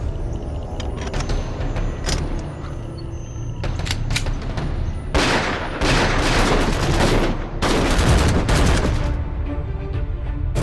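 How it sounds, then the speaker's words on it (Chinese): Gunfire in a TV drama spy thriller set around a rural township: scattered shots build into dense, sustained volleys of rapid firing, loud and continuous without speech. "在乡镇周围响起大量枪声"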